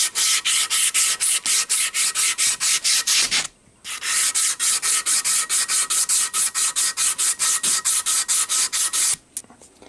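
A hand file worked over a chain-drilled metal part for a Prince dynamo motor build, loud rhythmic rasping strokes repeating steadily at close range with two short pauses.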